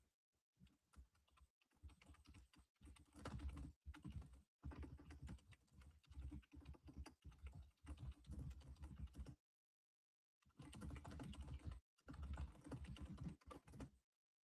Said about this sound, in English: Pounding away on the keyboard.